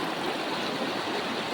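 Water of the Cayabu river flows in a steady, close rushing wash that stays even and unbroken throughout.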